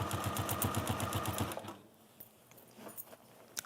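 A sewing machine stitches Chatham Glyn crafty velvet in a rapid, even run of needle clatter for about a second and a half, then stops, leaving quiet handling sounds and faint clicks.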